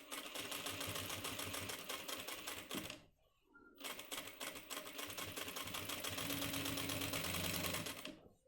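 A sewing machine stitches the back pocket of a men's trouser, a fast, even mechanical rattle in two bursts with a short pause between them, close and clear with no talking.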